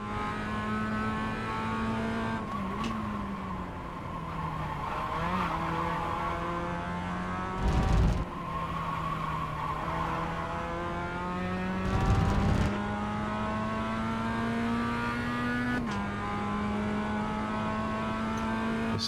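A Mazda MX5 engine drones steadily through a lap of Winton raceway, its pitch rising and falling as it accelerates, with two brief louder bursts of wind or road noise partway through. No one speaks.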